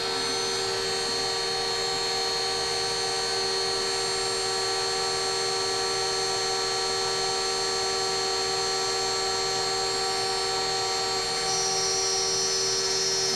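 A CNC router spins steadily with strong tonal whine and hum while its bit cuts plastic held in a clamping fixture, continuous and loud throughout.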